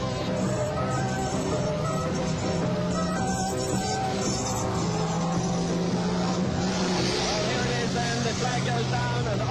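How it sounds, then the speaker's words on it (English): Banger cars towing caravans race in a 1980 event, a dense continuous roar of several engines at full throttle, loud and unbroken, with a commentator talking over it. "The bangers with their caravans race it out."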